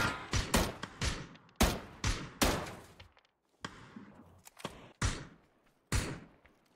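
Gunfire in the battle royale game PUBG: a dozen or so sharp, loud single shots and short bursts at uneven intervals, with brief quiet gaps between them and no speech.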